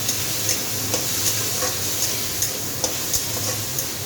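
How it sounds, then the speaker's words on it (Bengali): Food frying in a pan for a vegetarian kabuli chickpea dish, stirred gently: a steady close sizzle with light, evenly spaced scrapes and taps of the spoon against the pan, no voices. "এবার এটা হালকা করে নাড়বো।"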